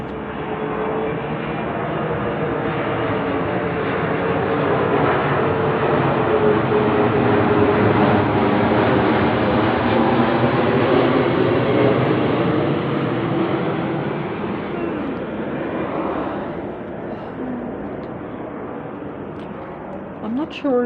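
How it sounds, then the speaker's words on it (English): A patrol plane passes directly overhead as a loud, sustained broadband roar that builds, holds for several seconds, then slowly fades, with someone talking faintly underneath. "Another patrol plane coming directly over my head again."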